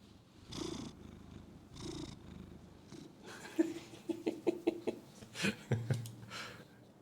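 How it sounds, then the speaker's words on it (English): A cat purrs softly and close, a low rhythmic rumble with breathy pulses, growing a little more audible toward the end. "he's a bit of a quiet purrer"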